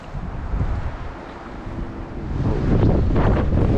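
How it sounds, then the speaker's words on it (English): Strong gusty wind buffets the microphone beside a river on a windy day, a loud rumbling roar that swells and grows heavier toward the end, with no talking. "That wind is crazy."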